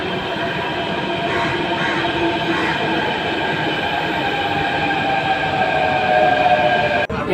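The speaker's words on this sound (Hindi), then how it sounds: "मेट्रो आ रही है, मेट्रो से जाएंगे अब लाल किला देखने।" A Delhi Metro train arrives at the platform, with a loud continuous rumble and rolling wheel noise, faint squeals and clicks, and a sudden thump near the end.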